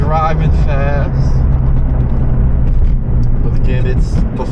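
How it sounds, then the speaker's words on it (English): Cars drive past on a road before noon, a steady low engine and tire rumble close by, with someone talking over the traffic. "Cars really aren't driving fast."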